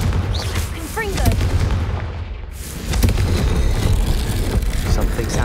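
Confringo spell blasts go off in the Hogwarts Legacy video game as loud booming explosions over a rumbling game-combat backdrop, with a voice shouting amid the blasts.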